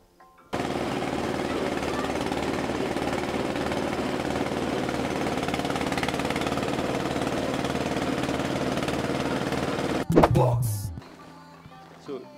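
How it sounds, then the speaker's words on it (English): A cassava grinding machine for making garri starts up and runs with a loud, continuous rattling engine roar for about ten seconds, then cuts off abruptly and winds down. "At the end of the washing, they now operate the machine that will grind. This is the grinder."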